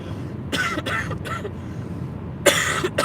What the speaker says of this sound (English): You get to listen to me hacking like an old hack.